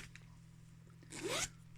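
A zipper with a rose gold pull being unzipped on a Birchbox bag, one quick rising rasp near the end, faint and close over a steady low hum.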